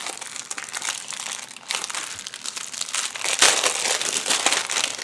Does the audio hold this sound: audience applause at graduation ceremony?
no